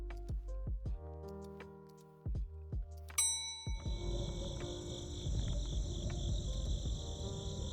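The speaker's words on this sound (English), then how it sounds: "There's a chirping sound from over here. Crickets," Sparse chiming ticks give way to a steady, high-pitched cricket chirping in a video game (The Darkside Detective: A Fumble in the Dark) that continues over a low ambient hum; no voices.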